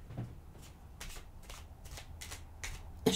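Letter and number cards being shuffled by hand, a soft papery riffle repeating in several quick bursts at a steady rhythm, faint and close with a light knock at the end.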